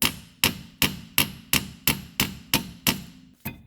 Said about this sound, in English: you're going to now take a hammer and you're gonna smash the head of the bolt